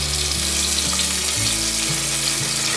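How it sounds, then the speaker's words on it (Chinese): Celery pieces and ginger slices stir-frying in hot oil in a stewing pot give a steady, close sizzle with no talk, under a low mechanical hum that steps in pitch. "把芹菜和姜片炒香。"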